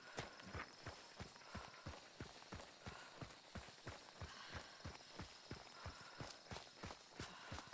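Horse hooves clip-clop in Hunt: Showdown, a steady, regular run of sharp hoof thuds at a trotting pace, fairly faint and continuous throughout.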